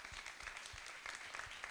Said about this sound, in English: I'd like to get everyone to give us a round of applause to the insights from all four.